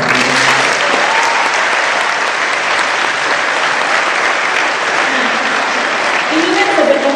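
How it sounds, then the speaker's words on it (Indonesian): A school hall audience bursts into loud, sustained applause during a talk show with the vice governor, a thick continuous roar of clapping with faint voices underneath, holding strong for several seconds. "Tepuk tangan dong"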